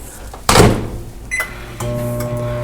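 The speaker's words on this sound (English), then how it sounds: "I'm gonna stick my milk in the microwave." A door thuds shut, a couple of quick electronic beeps sound, then a microwave oven heating milk starts up with a steady, close electric hum.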